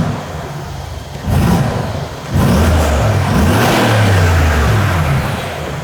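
A Brabus B63 V8 engine rumbles at low idle, its deep throb swelling louder partway through and then holding steady and close.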